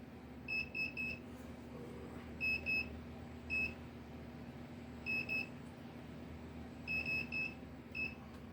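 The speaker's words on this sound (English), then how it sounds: "let me change my timer because I forgot" A heat press timer beeps as it is set, giving short high electronic beeps in small clusters of two to four, spaced irregularly over a low steady hum of the press.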